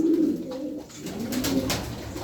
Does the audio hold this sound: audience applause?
no